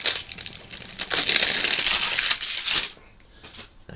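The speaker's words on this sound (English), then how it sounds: "Let's get the cellophane off this." Crinkly cellophane wrap is peeled and crumpled off a small boxed Spider-Man mystery plushie, loud close crackling for a few seconds, then a couple of quieter rustles.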